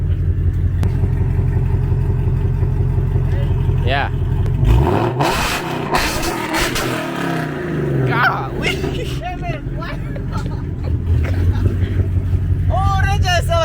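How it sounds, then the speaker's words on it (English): A Ford Mustang GT S650 fitted with long tube headers idles with a deep, loud rumble, then revs hard in several rising bursts, while excited people talk and exclaim close by. "Oh, that just sound like a race car"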